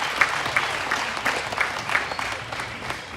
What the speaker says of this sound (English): So give Hunter a big round of applause